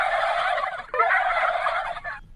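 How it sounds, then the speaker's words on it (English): Wild turkeys gobble in the woods, a loud, rattling burst of gobbles followed by a second overlapping call, with no people talking. "That's the sound of wild turkeys in the woods laughing their ass off"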